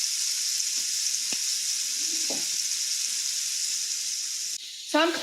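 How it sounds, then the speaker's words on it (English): Beef stew meat sears and browns in a pan on a gas stove, a steady, bright sizzle running throughout with a few faint clinks and a brief scrape near the end. "So put your meat in here and don't flip it until it starts getting good and brown"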